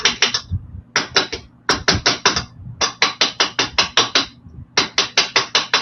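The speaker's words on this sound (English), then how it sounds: "Love this little hammer from Metal Complex from John Bead." A small metal hammer strikes aluminum wire in quick, loud, sharp taps, grouped in bursts of four to eight blows with brief pauses between them, close up and with no talking.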